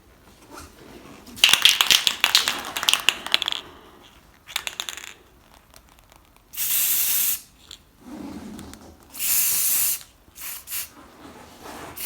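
Automotive spray paint applied to the bare metal of a central heating radiator, several loud hissing bursts of a second or two each from an aerosol can, close by, separated by quiet gaps with faint rattling and clinking.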